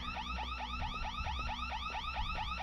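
A car alarm in the Thai horror video game ARAYA wails in rapid repeating sweeps, a steady looping siren pattern sounding alone and moderately loud.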